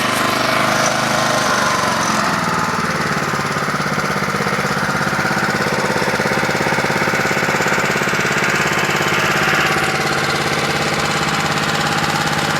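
Self-propelled lawn mower engine running steadily at a cold start, a loud close rattling drone with a worn clutch in the drive system, continuous throughout with no talking.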